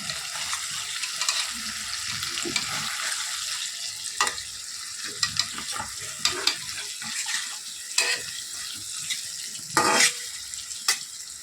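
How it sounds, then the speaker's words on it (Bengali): Paneer frying with turmeric and Kashmiri chili powder, a close, moderate sizzle running throughout with repeated sharp stirring clinks and scrapes of a spatula in the pan. "পনিরটা এখানে ভাজা হচ্ছে, একটু হলুদ আর একটু কাশ্মীরি লঙ্কার গুঁড়ো দিয়ে দিয়ে ভাজছি"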